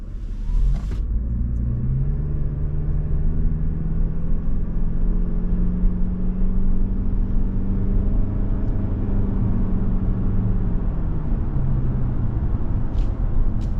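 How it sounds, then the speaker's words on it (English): The 4-cylinder engine of a 2024 Toyota RAV4 SE Hybrid working under load, a loud steady droning rumble from inside the cabin whose pitch climbs, holds, then eases back down, with no talking. "Get a little bit of noise out of the 4-cylinder engine under load"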